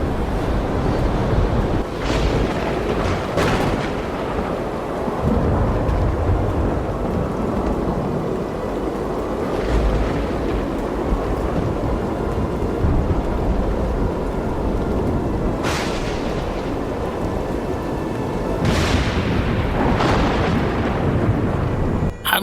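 A violent storm at sea: constant roaring wind and crashing waves fill the scene, with loud thunder cracks breaking through several times and no voices.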